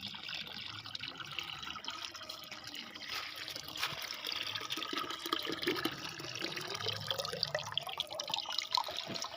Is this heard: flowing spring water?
yes